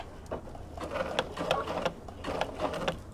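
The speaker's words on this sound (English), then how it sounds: "I'm going to stitch across here." A sewing machine runs in short bursts, stitching across fabric for a penguin play mat, its needle clatter rising and falling at close range with brief pauses between runs.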